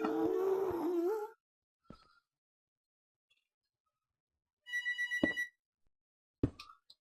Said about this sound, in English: And would you believe the phone is ringing?